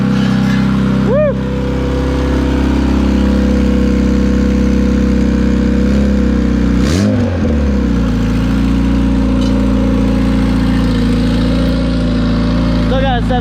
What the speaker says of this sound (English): That might be why it's idling a little high.